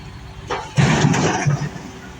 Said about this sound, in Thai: ตอนนี้ซีรีห้าก็กำลังถอยเข้านะครับ